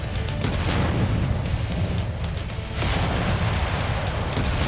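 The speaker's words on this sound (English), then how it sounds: "Spider's MG ammo's exploding" Machine-gun ammunition cooking off inside a burning spider tank in a video game, a dense, continuous rumble of popping blasts with sharp bursts throughout, loud and close.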